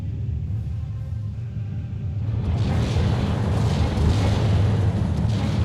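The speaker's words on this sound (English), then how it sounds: "Again, he fires his off-map artillery on an empty ground." Off-map artillery fire in the Steel Division 2 war game, a steady low rumble of distant booms that swells louder about halfway through and keeps rolling without a break.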